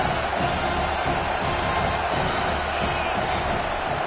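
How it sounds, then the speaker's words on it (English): Dense, steady roar of a packed college football stadium crowd at an Arkansas game, loud cheering and yelling sustained throughout with no break. "This crowd, full throat, spreading the eardrums and letting them know it's going to be a long day."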